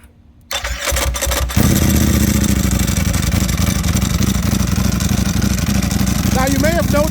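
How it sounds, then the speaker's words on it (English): A Ducati Panigale V4 R motorcycle with an Akrapovic exhaust and dry clutch starts up after a starter whir, then idles loudly and steadily up close with a dense, rumbling exhaust note, with brief voices near the end. "let's take a look at the V4R and see and hear how it sounds with its Akrapovic"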